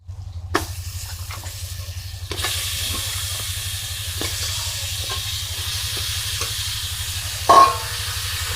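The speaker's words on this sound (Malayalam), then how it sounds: "ക്ലീനാക്കി വെച്ച ചിക്കൻ ഇതിലേക്കിട്ട് മിക്സ് ചെയ്ത് കൊടുക്കാം" Chicken with spices stir-fried in a pan for a country-style chicken curry: continuous close sizzling with repeated spatula scrapes and clacks, growing louder after a couple of seconds, with one brief sharp clink near the end.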